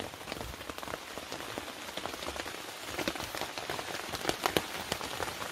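Steady rain patters on the fabric of a camouflage truck-bed tent, a dense, even drumming of drops with sharper taps scattered throughout and no voices.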